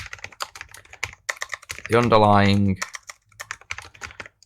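Typing on a computer keyboard produces a rapid, irregular clatter of close keystrokes, briefly interrupted by someone speaking a couple of words before the tapping resumes.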